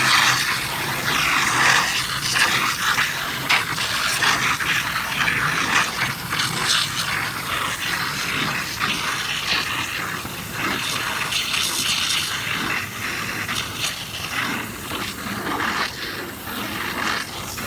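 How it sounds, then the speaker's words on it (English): A garden hose blasts water into a fish head mix outdoors in hot weather, giving a steady, loud rushing gush that runs unbroken and close for the whole stretch, with no talking. "blast it with the hose"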